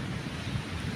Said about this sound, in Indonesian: menantang ombak begitu deras nih